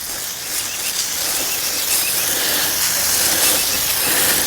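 A DIY homeowner lawn care sprayer throws a long-distance stream across an open yard, a steady, loud hiss that holds unbroken throughout.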